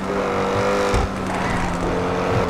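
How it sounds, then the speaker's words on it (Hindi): An 8-litre quad-turbocharged W16 supercar engine in GTA V roars loudly and continuously at close range, with a steady rumbling drone and some tire noise. "असली आवाज़ आ रही है W16 की"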